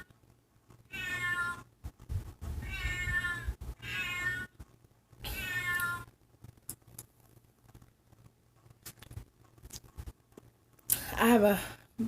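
A clock that imitates a cat gives several drawn-out, wavering meows, near and fairly loud, separated by quiet gaps, with a shorter squealing cry at the end.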